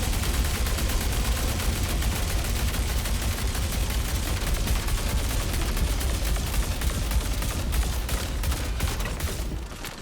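Fresnel Volt LMG fires in Star Citizen: a continuous, loud, rapid stream of close gunfire that runs without a break for nearly ten seconds and tapers slightly at the end.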